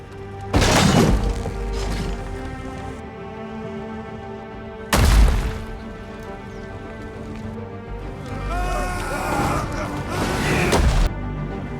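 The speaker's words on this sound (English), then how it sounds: "The dwarves unleash their catapults, the great stones flying through the air and crashing into the ranks of the Easterlings." Heavy stones from dwarven catapults smash into the ranks of an Easterling army in a fantasy battle scene, with two loud shattering crashes and booming impacts rising over a continuous roaring battle din.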